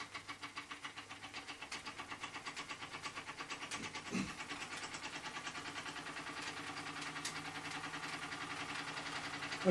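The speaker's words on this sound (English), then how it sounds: "I've araldited the engine bearing bracket down, and it's running a lot better now." A small engine running after its bearing bracket was glued down with Araldite, giving a steady rhythmic chugging beat that stays even throughout, fairly quiet, with a brief knock partway through and no talking.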